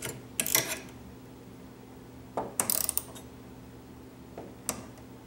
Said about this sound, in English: With a ratchet, I screw in the two self-tapping screws to hold the digital readout permanently in place.